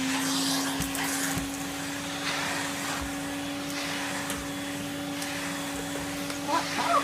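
A 1983 Numatic NV200 vacuum cleaner runs steadily up close, its motor giving a loud, constant whine with a strong tonal hum and airy suction rush, with faint handling bumps.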